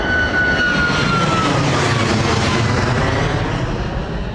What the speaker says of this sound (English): Mate, this Ryanair's loud.